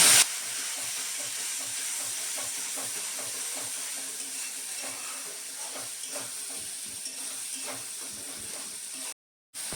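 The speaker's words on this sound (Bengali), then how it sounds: "অল্প একটু জল দিয়ে মশলাটাকে কষিয়ে নেব।" Spice paste with red chilli powder, turmeric and salt sizzles in a pan with a little water, a steady broadband hiss with faint scraping stirs throughout, stopping briefly near the end.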